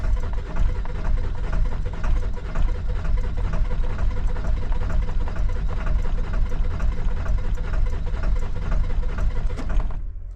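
A diesel engine with some glow plugs not working is cranked in cold winter weather by a weak starter, giving a loud, steady, rhythmic churning that runs for about ten seconds and then cuts off abruptly.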